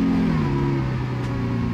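A Lamborghini Aventador SVJ 63 engine idles steadily close by just after starting, a loud, even rumble with a faint whir on top and no talk.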